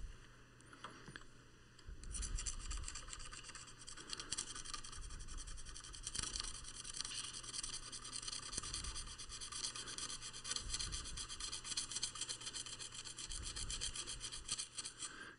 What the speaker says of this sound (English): I'm just going to clean up some of the background scratches on the silver before I continue with this.